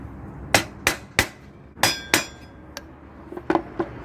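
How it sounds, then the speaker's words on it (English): Sharp hammer blows on a chisel cut out a hole in a front panel, close and loud, landing in a loose irregular series of about ten knocks with metallic ringing overtones, and no talking. "So I need to chisel those out and then I can file it down."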